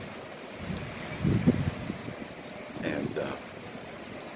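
Loud cold wind blows and buffets the microphone outdoors as a steady roar, swelling in two gusts, while a person talks over it.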